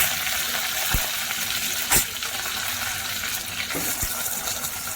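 Mustard seeds, cumin and curry leaves sizzle in hot tempering oil for dal fry, a steady close crackle with a few sharp pops and spits throughout.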